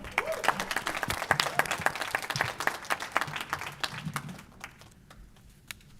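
A small group claps at a fast pitch business competition, a steady patter of applause that gradually thins and fades out to a few scattered claps.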